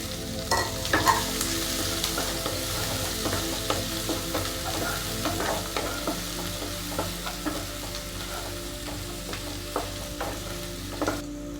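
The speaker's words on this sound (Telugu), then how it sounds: "ఇప్పుడు ఇందులోకి ఒక చిన్న ఉల్లిగడ్డ సన్నని తరమ వేసుకుందాం" Thinly sliced onion and cashews fry in a pan for carrot rice: a steady, close sizzle runs throughout while a spatula stirs with frequent light scrapes and taps, and no one speaks.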